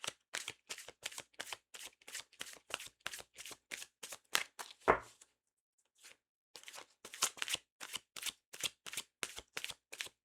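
Tarot cards are shuffled by hand in a long run of quick, rhythmic riffling snaps, close and crisp, with a brief pause midway before the shuffling resumes, and no voices.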